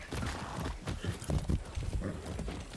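Horse hooves in the video game Far Cry 6, a quick run of clip-clop steps with a faint whinny, close and moderately loud, no talk over them.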